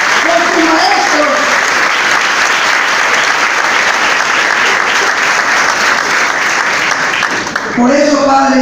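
Sustained, loud audience applause fills a school awards ceremony for an inter-school entrepreneurship fair, steady dense clapping throughout with a voice briefly audible at the start and again near the end.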